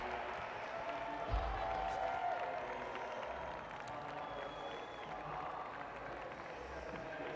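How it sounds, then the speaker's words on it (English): A packed stadium crowd cheers and applauds during an evening athletics session at the London 2012 Paralympic Games, with a steady, broad roar that holds at an even level throughout. "Big cheer in the stadium."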